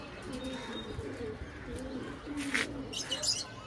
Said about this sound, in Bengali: পায়রার ল্যাস দেখতে পারেন আপনারা